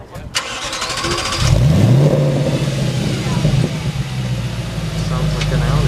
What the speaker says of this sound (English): Sounds like an Audi.